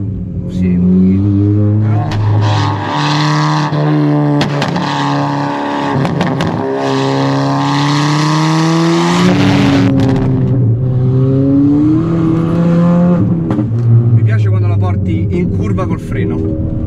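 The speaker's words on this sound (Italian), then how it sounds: "è una macchina da rally con la trazione anteriore e porta fuori dalle curve in un modo imbarazzante" Ford Fiesta ST200, a front-wheel-drive car, engine revving hard while driving, loud and close from inside with pitch climbing through the gears and dropping on lift-off, while people talk over it.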